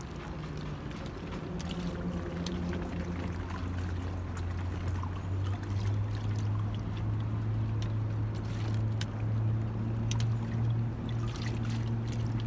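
Water rinsing a plankton net during oceanography fieldwork, a continuous gurgling, trickling flow with a low engine-like hum beneath it and no talking.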